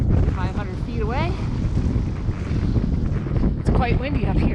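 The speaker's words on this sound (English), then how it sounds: "It's quite windy up here." Strong wind buffets the microphone with a constant roar on a mountain summit ridge near Mount Monroe, while a person talks intermittently over the gusts.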